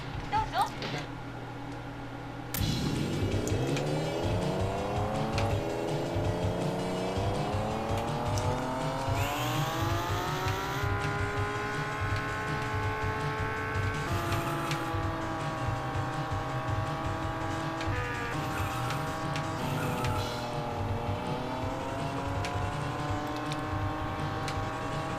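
A yellow Lamborghini's racing engine in a Sega Super Scaler arcade game on the FM Towns rises and holds in pitch through shifts, with game music and effects layered in and speech over it.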